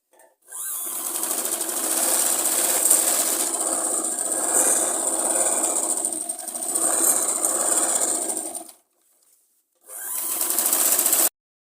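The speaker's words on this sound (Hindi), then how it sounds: "मैंने फिटिंग की सिलाई लगा ली है।" A sewing machine stitching a Punjabi suit runs in two sustained bursts of steady, rapid mechanical whirring, stops briefly, then starts again for a shorter run, close up and alone.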